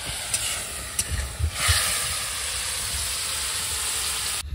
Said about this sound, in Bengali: চিংড়ি মাছ ভাজছি, একটু কড়া করে ভাজো